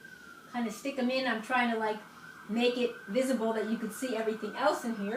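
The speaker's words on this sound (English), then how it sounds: "You hear some ambulance." An ambulance siren wailing outside in a noisy city area, a faint steady tone running under close talk throughout.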